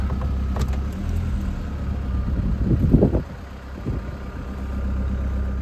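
A 2020 Chevy Colorado ZR2 with a Duramax diesel engine runs close by with a steady low rumble, swelling briefly near the middle before settling back to an even idle.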